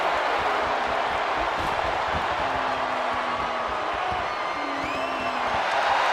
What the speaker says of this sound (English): The admiration for these superstars is echoing throughout this arena right now.